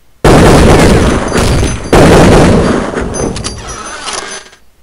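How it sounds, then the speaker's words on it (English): Gunfire in a video game: two loud, sharp broadband blasts, each with a long decaying tail, the second about 1.7 seconds after the first, followed by fainter crackling reports as the sound fades. "Now you can hear this guy up here shooting."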